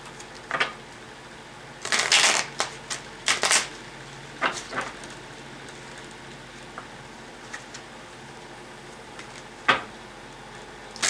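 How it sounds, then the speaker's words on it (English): Tarot cards being shuffled in several quick riffling bursts, close and crisp, with soft handling clicks and rustles between them and no talking. "One more shuffle. I do love how these cards shuffle."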